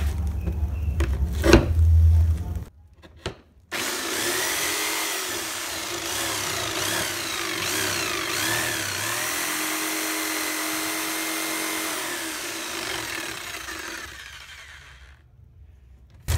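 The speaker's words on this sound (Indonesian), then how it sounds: "Kayak gini, ini nanti masih digergaji lagi." A homemade scroll saw or jigsaw cuts wood for a fretwork carving, giving a steady, close mechanical buzz that runs for about ten seconds after a few knocks and clicks, then fades out.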